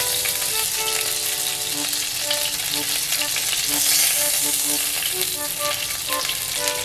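A Hamburg steak cooking in a hot pan gives a loud, continuous close sizzle and crackle, with a melodic music track playing underneath throughout.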